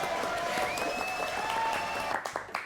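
A television studio audience applauds for a quiz contestant: dense, steady clapping close up that runs for a few seconds and then thins out into scattered claps.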